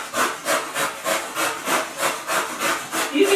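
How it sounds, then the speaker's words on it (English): Cucumber grated on the big side of a box grater, a steady back-and-forth scraping of about eight even strokes roughly two per second, close and clear, with no speech. "then we're just going to grate it down so it's all grated"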